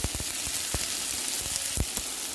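Chopped tomato pieces sizzle in a pan for Onam sadya sambar, giving a steady, dense frying hiss with a few soft thumps from stirring.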